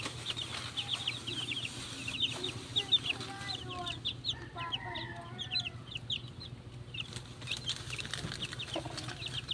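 One-month-old chicks peep in a steady chorus of high, rapid chirps close by, with a low hum running underneath.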